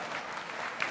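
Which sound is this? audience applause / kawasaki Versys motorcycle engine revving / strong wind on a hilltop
audience applause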